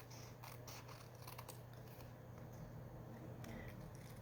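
Soft scissor snips trimming excess Christmas paper, several quiet cuts spread over a few seconds against a low steady hum, no talking.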